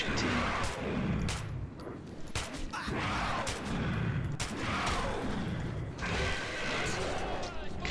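Gunfire in the video game Metro 2033, repeated sharp bursts and shots in an irregular rhythm, loud and close, with voices talking over the shooting.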